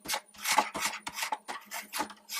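A ruler presses and scrapes along the folds of a paper box being closed, giving a series of short close rasping strokes in an uneven rhythm, quiet and without speech.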